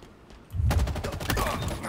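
Rapid automatic gunfire erupts in Halo Infinite, a dense burst of loud overlapping shots that starts abruptly and carries on for over a second.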